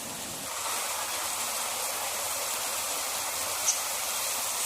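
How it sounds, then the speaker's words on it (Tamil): Heavy rain pours down as a dense, steady hiss that rises slightly after the first half second and stays constant, with no voices. "சரியான மழை"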